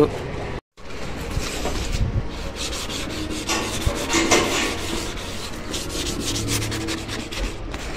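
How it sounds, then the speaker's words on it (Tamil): Sandpaper rubs scratches off the body panels of a Honda Dio scooter in steady, rasping back-and-forth strokes close by, with one brief pause near the start and a voice now and then underneath. "இப்போ நம்ம வண்டி ஃபுல்லாக தேய்க்கணும்."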